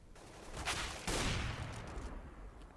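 AWP sniper rifle fire rings out in a Counter-Strike match on de_overpass. Shots crack over a rushing, reverberant game backdrop, with one sharp, loud report near the middle, and there is no talk.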